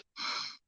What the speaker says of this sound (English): So you breathe.